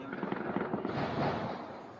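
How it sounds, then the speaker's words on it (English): Fireworks crackle and pop rapidly in a recording played back on a device, a dense, fairly faint burst of small bangs that blurs into a rumbling hiss. "This is why you shouldn't play with fireworks."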